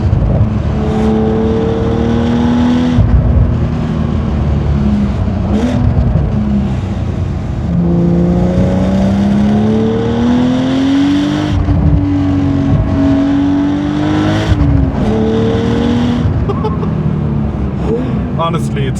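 A manual Porsche 911 with about 500 horsepower pulls hard through the gears, its engine note rising in long sweeps and dropping at each shift, loud and close from inside the cabin.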